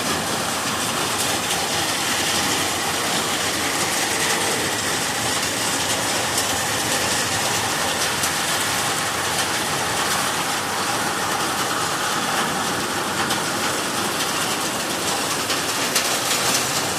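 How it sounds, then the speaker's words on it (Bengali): Heavy rainfall pours in a dense, unbroken roar that stays loud and even throughout, with no voices heard. "প্রচণ্ড বৃষ্টি নেমে গেছে। এই বৃষ্টিতে আদৌ যাওয়া যাবে না। বৃষ্টির আওয়াজ শুনতে পাচ্ছেন।"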